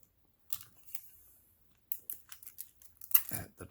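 Adhesive tape is pulled off in short sharp rips and pressed down onto a zippered purse being sewn, giving intermittent crackly bursts close by with quiet gaps between them.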